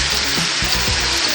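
Ground beef sizzles and spits loudly in a hot pan, a steady close-up frying hiss under a brief spoken word.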